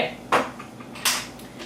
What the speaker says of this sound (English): Now I'm supposed to mix all that together.